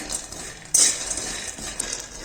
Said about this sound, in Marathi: मध्यम गॅसवरती चांगला खरपूस होईपर्यंत भाजून घ्यायचे शेंगदाणे